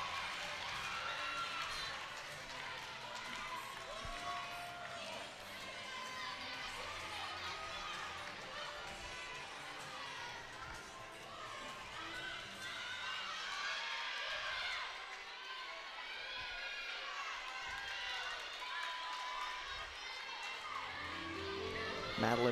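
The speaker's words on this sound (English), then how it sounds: "And a really good crowd today as well for the seniors." A crowd murmurs and chatters steadily through a college gymnastics meet in Temple's McGonigal Hall, a busy indoor hubbub at moderate distance that stays fairly even throughout, with voices mixed into it.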